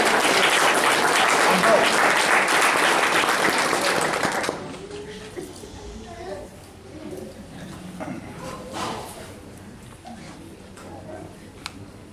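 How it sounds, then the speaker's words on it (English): Audience applause at a fall graduation ceremony for non-traditional students: a loud, dense burst of clapping that fills the hall for about four seconds, then stops abruptly and leaves quiet room tone with faint murmurs. "Everybody else, big round of applause"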